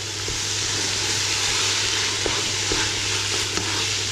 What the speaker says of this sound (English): Hear that sizzle, sizzle, sizzle.